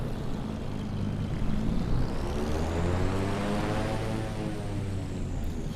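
Steady turbocharged twin propeller engine drone of a Cessna 414AW Chancellor in Microsoft Flight Simulator 2020 holds throughout, with a low hum and rising harmonic whine, continuous and fairly loud with no voices.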